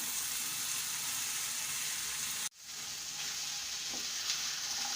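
Diced capsicum stirred into keema sizzling in a pan, steady hiss of frying with a brief drop as the spoon moves, then the sizzle resumes with faint scrapes.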